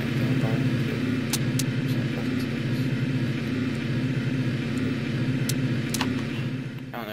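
A toy train running in the Lionel TrainTown Deluxe video game, heard as a steady, fairly quiet mechanical rumble with a continuous hum and a few faint clicks, alone without talk.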